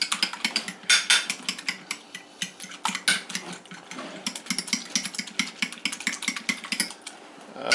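Egg wash with cinnamon is briskly mixed for French toast, giving a rapid, irregular clatter of utensil against bowl, close and fairly loud, with no talking.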